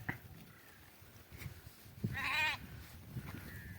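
A single sheep bleats at moderate distance on a field where the flock is grazing, a short wavering cry standing out from quiet rustling background noise.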